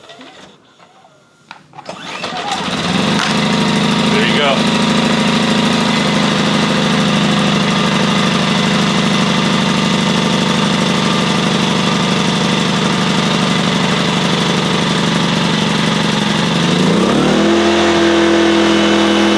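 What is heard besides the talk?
gas generator pull-started and running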